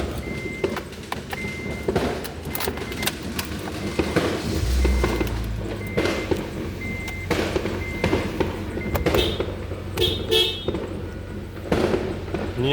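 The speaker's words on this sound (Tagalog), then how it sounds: "Busina." Car horns honking on New Year's Eve, repeated short toots over busy outdoor street noise and distant bangs, moderately loud.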